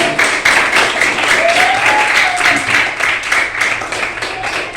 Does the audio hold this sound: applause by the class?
yes